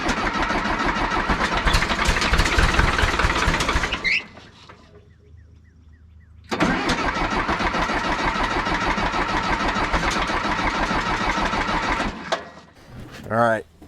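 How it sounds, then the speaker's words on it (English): An engine cranks hard without catching, in two long, loud, steady bursts split by a few seconds of quiet, with a brief whine at the end. The engine won't run, and crud in the fuel lines is suspected. "and now the engine, it just won't run"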